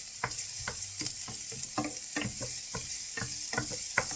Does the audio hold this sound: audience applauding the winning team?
no